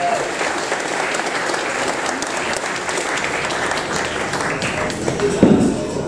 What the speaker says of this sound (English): A round of applause for our 2 fighters here.